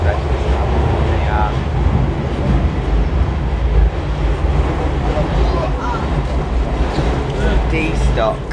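A London Underground D-stock train rumbles along steadily with loud low roaring and wind buffeting, a continuous rolling noise throughout with faint squeals now and then.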